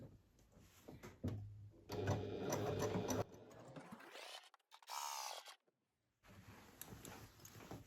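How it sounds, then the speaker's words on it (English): A sewing machine stitches around the top of a pouch in short, quiet bursts of whirring with pauses and fabric handling between runs, heard close and faint. "I'm going to sew around the top with a 1 centimeter seam allowance or 3/8 inch seam allowance"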